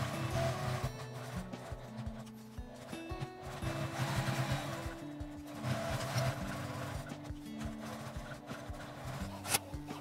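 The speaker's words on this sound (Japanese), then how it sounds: "周りに端ミシンをかけます。" A sewing machine runs edge stitching around a fabric zippered pouch, a quiet mechanical whir with rhythmic needle thumps that pauses and restarts in several short runs, close by with no talking.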